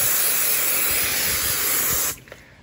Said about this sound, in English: So what I'm gonna do is just very lightly spray it